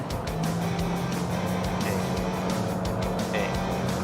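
A Toyota Yaris Cross engine drones steadily, its tone rising and surging as the revs climb, heard from inside the vehicle with road rumble underneath.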